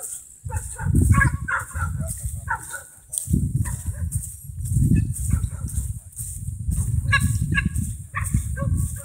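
Farm dog barking in repeated bursts close by, with fowl such as chickens or geese also calling around it on a farm with livestock, the barks coming in clusters separated by brief pauses.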